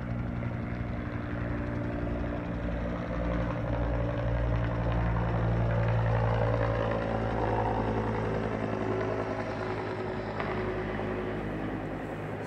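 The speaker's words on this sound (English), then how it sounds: "Here comes another chopper now." A helicopter flies over a hillside community during an evacuation, making a continuous loud low engine drone with a throbbing rotor pulse that swells slightly midway and then eases.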